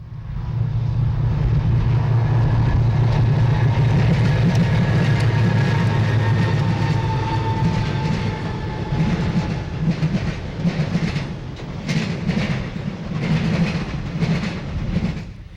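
A short eastbound intermodal freight train carrying truck trailers rolls past close by at Berea, with a loud continuous rumble, a low engine drone, and rhythmic clickety-clack of wheels over rail joints toward the end.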